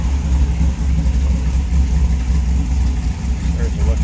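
A 1967 Chevrolet C10 Stepside truck idles with a deep, steady low rumble, close and loud, while a person talks over it throughout.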